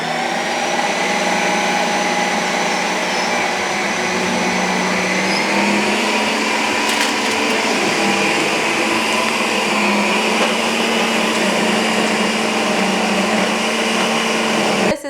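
A Ninja Creami ice cream maker runs a full respin cycle, a loud, steady motorized whir with a constant high whine that holds evenly throughout before cutting off abruptly at the end.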